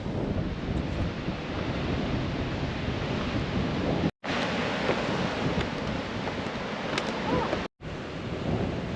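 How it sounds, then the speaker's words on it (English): Strong wind blowing at a rocky coastal point in Western Australia, a loud continuous roaring buffet across the microphone with surf-like rumble, broken by two brief dropouts. "Our friend Gail's definitely out and about today because it is blowing"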